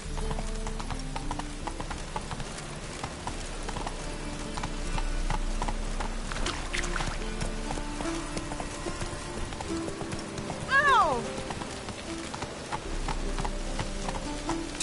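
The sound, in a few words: horse Roach galloping in video game The Witcher 3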